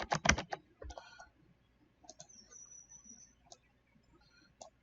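Short bursts of computer keyboard typing and clicking while entering text in software, a loud cluster of keystrokes at the start, then sparse faint clicks and a quiet electronic tone in a calm room.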